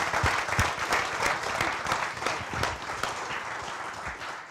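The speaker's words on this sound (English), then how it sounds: "Let's give our panellists a round of applause." Conference audience at a real estate agents' summit applauding its panellists, a dense, steady round of clapping from a crowd that carries on throughout without fading.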